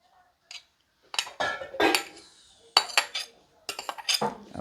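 Pickled bilimbi being moved into a clay pot, a string of close clinks and scrapes of a spoon against the vessel in irregular bursts with short pauses between.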